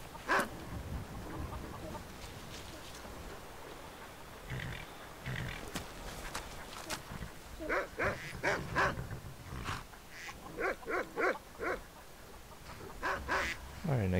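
Dogs in Skyrim give short barks and whimpers in quick repeated bursts, sometimes clustered and sometimes spaced apart, over a low game background, with a little talk early on.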